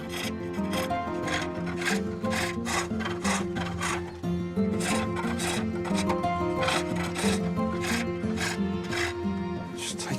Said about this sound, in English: turning the cylinder into a pulley by cutting a groove in its rim